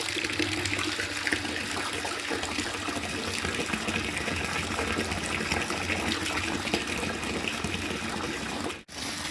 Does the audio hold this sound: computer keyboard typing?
no